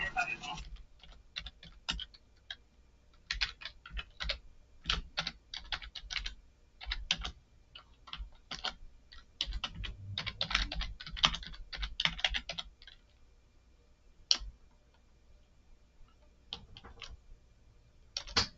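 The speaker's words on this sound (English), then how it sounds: "I was just typing that out to put in chat" Fast bursts of clicky typing on a computer keyboard, close and fairly quiet, run in uneven flurries with short pauses and thin out toward the end.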